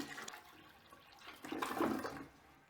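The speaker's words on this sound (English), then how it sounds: "you overcome the trap by giving it too much water too fast" Water dumped fast into a toilet bowl in a small bathroom to push it past the trap, a soft rushing gurgle that swells near the end, heard close and alone.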